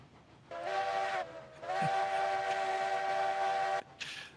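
A coal-burning steam locomotive in the video game Railroads Online sounds its whistle: a short blast, then a longer sustained one, and a brief final toot, loud and close over a low rumble.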